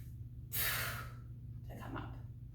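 A single sharp inhale, close to the mic, taken before lifting a deadlift, followed by a softer breath, with a low steady hum underneath.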